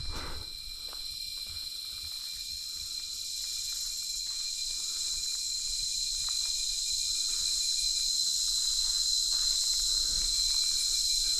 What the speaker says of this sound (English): Sounds of the jungle.